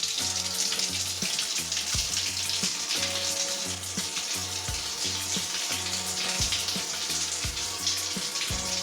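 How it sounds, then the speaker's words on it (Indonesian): Water pours steadily from an opened tap while a gas water heater is tested after its battery was replaced, a continuous hissing flow with faint rhythmic low thumps beneath it. "Kita akan coba tes, kita buka di keran air."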